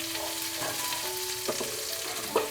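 Masala spices sauté in a pan for misal with a steady, close sizzle, broken by a few brief scrapes and clatters of stirring, and no one speaks.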